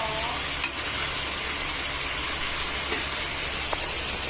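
Chicken with ginger, garlic, green chilli, onion, turmeric and salt cooking in a pan while being stirred, giving a constant close hiss broken by a couple of faint scrapes.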